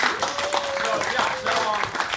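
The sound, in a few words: audience clapping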